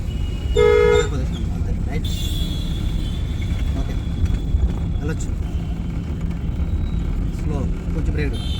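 A car horn gives one short, clear toot near the start during a driving lesson, followed by steady engine and road rumble inside the car while people talk.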